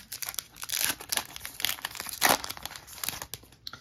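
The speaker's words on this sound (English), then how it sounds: "Let's open some cards." A foil pack of 2022 Heritage baseball cards is torn open, with dense crinkling and tearing of the wrapper in quick close bursts for several seconds and no talk.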